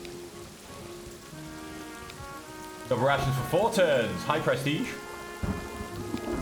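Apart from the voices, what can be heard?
rain in the video game Take the Trench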